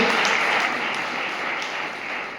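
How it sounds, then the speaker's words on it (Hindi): A church congregation claps together in thanks during a Hindi-language sermon, a dense, steady wash of many hands that runs loud the whole time and eases off only slightly toward the end. "पहले तो तालियां बजाकर प्रभु को धन्यवाद दो कि ये चेला प्रभु के पास गया।"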